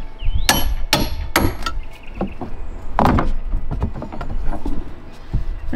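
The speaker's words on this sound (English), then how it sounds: "You can simply use the claw of the hammer to work your way across the board" Sharp knocks and creaks as a hammer claw levers at wooden deck boards, with a few loud impacts early and scraping, splintering wood sounds after.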